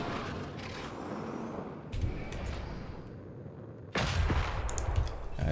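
Missiles firing in the space strategy game Worbital, heard as two muffled booming bursts a couple of seconds apart, each followed by a rumbling tail, with no talking.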